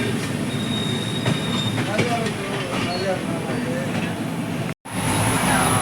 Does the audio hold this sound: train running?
yes